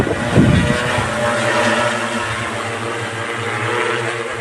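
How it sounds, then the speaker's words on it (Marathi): A steady mechanical whir of an agricultural drone's spinning rotors spraying pesticide over a farm field hums continuously at a moderate distance, loud and unbroken, with no voices. "ड्रोन या उपकरणाद्वारे औषध फवारणी ही अत्यंत शिताफीने चालू आहे"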